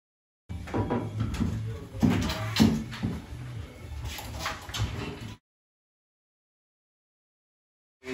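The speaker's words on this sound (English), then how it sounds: "Make sure that the wheels line up" Cavity sliding door rolling and clunking as it is fitted onto its wheels, a few knocks and scraping rumbles over about five seconds, then silence.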